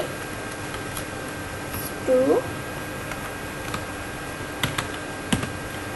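A chart title being typed on a computer keyboard, with light, irregular key clicks and a few slightly louder taps spread across the stretch, close and clear, while a person speaks over them.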